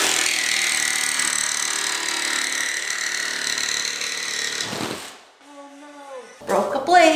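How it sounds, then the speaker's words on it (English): A jigsaw cuts through wood for a decorative home-decor project, a steady loud buzzing rasp for about five seconds, then a sudden stop followed by quieter clattering and a short burst of noise at the end. "I've really grown to love my jigsaw because of how versatile it is and how I'm able to create any shape that I want"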